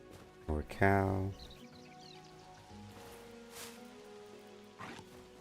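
A cow in the video game Hytale gives one short, low, voiced moo near the start, then quiet game ambience with faint tonal sounds.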